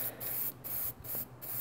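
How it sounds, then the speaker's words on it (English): Spray paint hisses from an aerosol can onto an umbrella stand in four short bursts, each a steady breathy hiss separated by brief pauses, close and alone. "if you stay far enough back and you spray long enough, what happens is the paint makes its way into these crevices."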